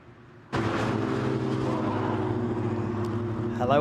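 A Caterham race car at Snetterton circuit on fresh tyres roars in suddenly and holds a loud, steady engine drone at close range, rising slightly near the end.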